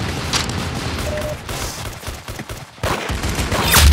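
Video game gunfire from a shooter match, with bursts of rapid shots and booming reports crackling loudly for most of the stretch, a brief lull near the middle and then a heavy close volley at the end.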